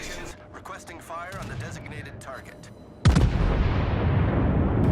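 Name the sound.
battleship guns firing HE shells in video game World of Warships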